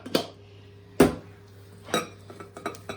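Utensils clink against a bowl while a salad is tossed with a honey and vinegar dressing for a Scotch sirloin Asian salad: several separate sharp knocks spaced about a second apart, then a quicker cluster of lighter taps near the end.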